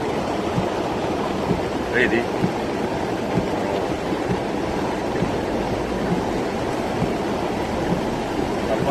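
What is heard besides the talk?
storm floodwater rushing in Capri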